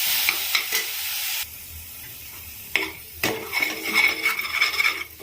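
Onion and chili paste fries in oil in a pan for Telugu palakura ulli karam, a utensil stirring and scraping against the pan bottom in bursts over a steady sizzle, close and fairly loud, with no talking.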